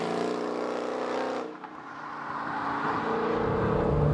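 A Dodge Challenger Hellcat muscle car bellows with a loud, close exhaust note under acceleration, a rich harmonic engine tone that drops briefly as it shifts and then climbs again, strong and unbroken.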